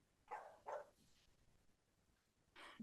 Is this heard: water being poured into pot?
no